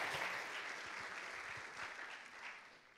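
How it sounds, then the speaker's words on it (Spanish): An audience at a university entrepreneurship event claps for a student duo, a short burst of fairly faint, even applause that fades slightly as it goes on. "así yo creo que se merece un fuerte aplauso por todo lo que han hecho"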